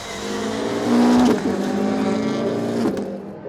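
Rallycross cars at Lydden Hill brake hard into the hairpin and power out again, engines droning with a sharp rise and a brief tyre squeal, one loud pass then steady engine roar close by.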